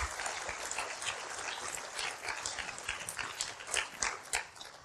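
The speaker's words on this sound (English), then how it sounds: "would you give the young adult who did this a hand clap" An audience at a church camp meeting gives a round of hand clapping: a sustained wash of many hands with sharper individual claps rising toward the end, moderately distant and with no talk.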